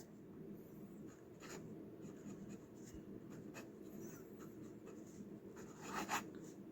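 A fountain pen filled with Bril Royal Blue ink writing on paper, a faint, close scratching of small strokes and taps over a quiet room hum.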